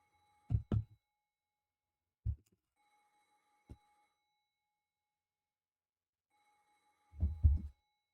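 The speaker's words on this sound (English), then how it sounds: "we're gonna hear the phone ring for a while longer" A telephone rings faintly in the Umineko visual novel game, a thin sustained tone that comes and goes, broken up by loud, dull thumps and knocks nearby.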